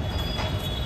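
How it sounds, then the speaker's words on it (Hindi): A Delhi Metro train rumbles at Navada metro station, a steady, dense rolling noise with a thin high squeal from the wheels, heard close and continuous on the platform. "नवादा मेट्रो स्टेशन है ये"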